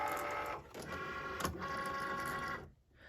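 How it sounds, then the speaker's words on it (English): A Cricut cutting machine whirs steadily as it loads the mat, a constant mechanical drone with a brief clunk midway before it stops near the end. "your light will be flashing on your machine, and that means your mat is ready to be loaded."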